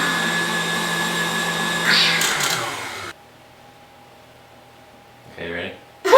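Electric mixer whipping meringue for cookies, a loud whirring drone that steps up in pitch, then cuts out abruptly, with voices speaking over and after it.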